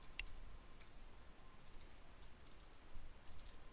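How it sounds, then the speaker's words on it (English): Someone types code on a computer keyboard, giving quiet, close, irregular key clicks in short bursts with no talking. "let me just type this first"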